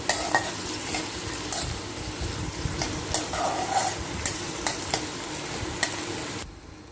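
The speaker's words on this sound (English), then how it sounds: "So we saute the onions for some time." Onions sautéing in a pan for Goan-style prawn pulao give a steady, close sizzle, with repeated sharp clinks and scrapes from stirring throughout, ending abruptly.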